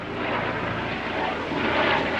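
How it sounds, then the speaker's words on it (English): Helicopters flying overhead give a steady, loud rotor-and-engine drone that fills the whole stretch, rising slightly toward the end, with no talking. "Now my recording's being interrupted by helicopters."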